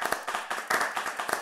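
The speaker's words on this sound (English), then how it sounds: "Let's give them a round of applause." A small audience at a panel session gives a brief round of applause, quick uneven hand claps close by, with no talking over them.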